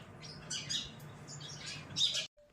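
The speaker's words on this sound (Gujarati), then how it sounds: "જો મસ્ત ચકલીઓ પણ ખાવા માટે આવી ગઈ છે." Bright chirps and squawks of sparrows feeding, over a steady low hum, ending in an abrupt cut to near silence.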